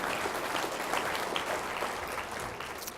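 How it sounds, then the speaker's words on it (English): An audience at a school district state-of-the-schools event breaks into applause, dense sustained clapping from many hands filling the room at an even level from start to finish. "did you start the applause?"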